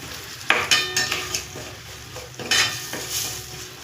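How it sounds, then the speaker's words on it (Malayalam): Kashmiri and regular chili powder roast in hot oil with a soft sizzle, broken by several sharp scrapes and clinks of a spoon stirring in the pan. "മുളക് പൊടി ഒന്ന് വറുക്കുക."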